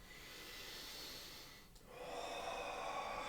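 A slow, deep breath in through the nose during a calm stretching exercise, close and soft, with a brief pause and a fuller airy inhale or exhale following.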